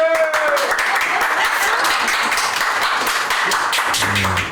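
A crowd claps steadily and densely throughout, with scattered cheers and voices mixed into the sustained applause.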